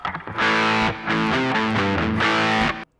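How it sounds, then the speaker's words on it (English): An electric guitar through an Electro-Harmonix Flatiron Fuzz pedal with a noise gate plays a few sustained, buzzy chords in succession, each ringing thickly before cutting off abruptly into silence. "Electro-Harmonix describes the Flatiron Fuzz as a classic op-amp powered fuzz/distortion inspired by the Rat 2"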